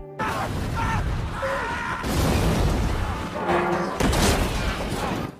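Loud, dense rumbling booms and bursts of blasts from the film The New Mutants (2020) over a constant roar of snowstorm wind and noise, with faint screaming voices mixed in.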